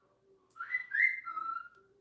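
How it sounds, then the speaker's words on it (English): Someone whistles a short, wavering tune of a few sliding notes, fairly quiet and heard on its own without talk. "Y'all hear him whistling?"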